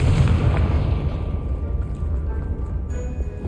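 A Confringo fire spell blast in Hogwarts Legacy, a heavy booming explosion with a deep rumbling tail that fades gradually over a few seconds, with no voices.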